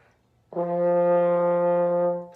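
A single sustained French horn note, C, begins cleanly after a brief pause and holds steady and full for about two seconds before fading.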